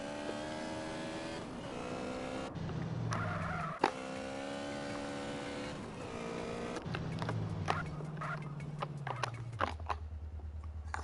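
A motorbike slides around a cone in GTA San Andreas: a whining engine rises and falls in pitch, with gear changes, scrapes and short skidding bursts, all close and steady.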